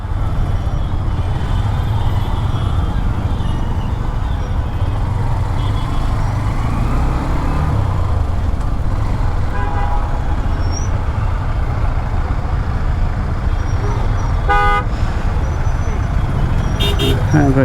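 Heavy road traffic in a jam, with a steady loud rumble of cars, buses and trucks and several car horns honking near the end, short blasts close by, with talk over it.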